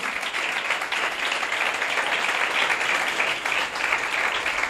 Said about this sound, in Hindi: यीशु मसीह के लिए जरा जोरदार तालियां बजाएं, जोर से